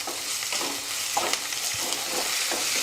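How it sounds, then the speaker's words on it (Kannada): Onions and ginger-garlic paste fry in hot oil for a veg puff filling, a close, steady sizzle broken by occasional scrapes of stirring, with no voices. "ಈ ಎಣ್ಣೆ ಜೊತೆಗೆ ಉಳ್ಳಾಗಡ್ಡಿನೂ ಫ್ರೈ ಆಗ್ತಾವ್ರಿ, ಮತ್ತು ಶುಂಠಿ ಬೆಳ್ಳುಳ್ಳಿ ಪೇಸ್ಟು ಫ್ರೈ ಆಗ್ತೈತೆ ರೀ"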